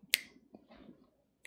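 A single sharp finger snap cracks out close to the mic at the start, followed by faint low murmuring and a small click at the end.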